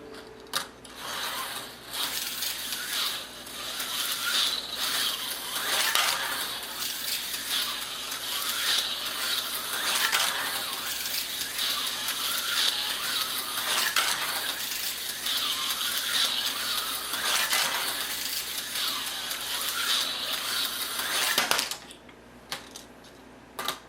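Tyco slot cars, one with hop-up parts and a Lifelike T chassis with better rear tires, run continuously on a looper track, giving a steady mechanical whirring and rattling clatter that ends abruptly near the close.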